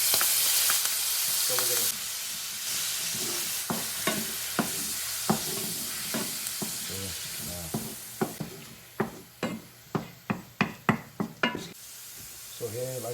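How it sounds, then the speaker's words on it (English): Sofrito and ham being sautéed in a pan with a utensil, giving a steady sizzle and a run of sharp scraping, tapping strokes that quicken near the end, with a brief spoken phrase at the start. "We're sauteing the sofrito."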